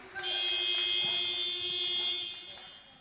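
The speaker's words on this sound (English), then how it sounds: "So there is the buzzer to signal the Loughborough timeout with 2 minutes and 9 seconds left to go." Timeout buzzer at an FA National Futsal Series match, one loud sustained electronic tone lasting about two and a half seconds over faint arena ambience.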